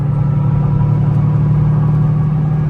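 A C5 Corvette engine on the highway, a loud, steady low droning rumble at constant pitch heard from inside the car, with no clear revving.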